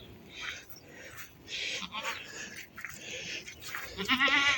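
Goats on a small farm bleat in short, overlapping calls, several close voices one after another, with a louder burst near the end.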